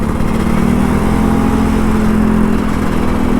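A Kawasaki Ninja RR 150 motorcycle engine runs steadily and loudly up close, a continuous low droning hum that holds throughout without distinct rev surges.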